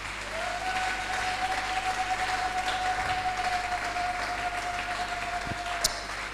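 A church congregation claps together in acclaim of God, producing steady, sustained applause that fills the room for several seconds with no one speaking over it.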